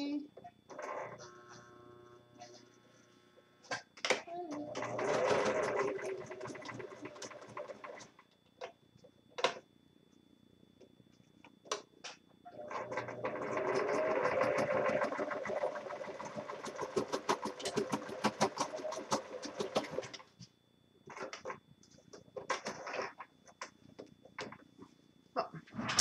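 A domestic sewing machine runs in two long bursts while stitching a fabric face mask, with a steady mains hum and light handling noises between the runs.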